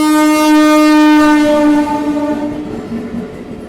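The Hampi Express passes with a loud, sustained horn blast close by. It fades into a rumbling clatter of rolling wheels as the train moves on.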